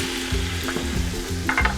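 Vegetables and garlic sweating in a pan over medium heat for chili, a close steady sizzle broken by a few stirring scrapes, with no talking.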